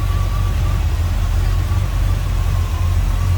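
A 1967 Chevrolet Impala SS two-door hardtop with HEI ignition idles smoothly and steadily up close, a deep, even low rumble with a faint whine running through it, and no one speaking.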